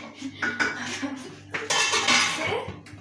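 Cooked chicken macaroni is served out of a pan with a utensil, producing a few metallic clinks and scrapes against the cookware, up close, with a faint voice in the background.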